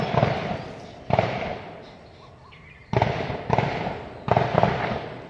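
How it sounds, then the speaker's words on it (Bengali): Repeated sharp gunshot bursts from a distant army firing range in the open, arriving in separate volleys with quieter gaps between them and no talking. "কোকিলের ডাক, তার সাথে ফায়ারিং এর আওয়াজ শুনতে পাচ্ছেন আপনারা?"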